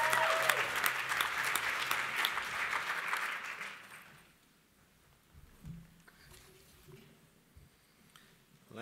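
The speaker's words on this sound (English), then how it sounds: "I'd say one collective round of applause for all those winners." Applause from a sizable crowd at a law school association awards ceremony, steady clapping for about four seconds that then fades out, leaving faint room noise.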